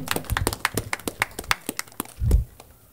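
Applause for a municipal agent at a district gathering in Huayllapampa, Peru: a modest group clapping in uneven, separate sharp claps that thin out, ending with a brief low thump.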